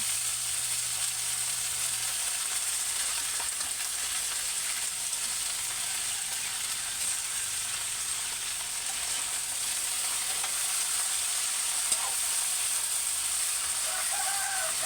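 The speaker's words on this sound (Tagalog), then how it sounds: "Ilalagay na po natin ang sari-saring gulay." Assorted vegetables sizzling in a hot frying pan, a steady, loud hiss that runs unbroken from start to finish with no talking.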